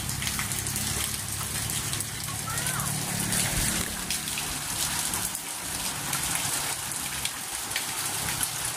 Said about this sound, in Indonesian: Saat ini walaupun hujan tidak begitu deras